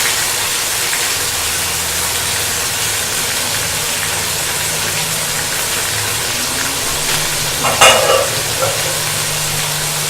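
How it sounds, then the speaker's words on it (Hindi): Spice masala frying in a pan over medium heat for a lauki chana dal dish, a steady close hiss and sizzle with one brief clatter of stirring near the end, no talk. "अपना मसाला भूनेंगे, और दरमियानी आंच पे हम इस मसाले की भुनाई करेंगे।"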